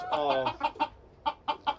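Small half-bound gamefowl roosters cluck nearby in a quick series of short, sharp calls, with a brief raspy vocalization at the start and no talk over them.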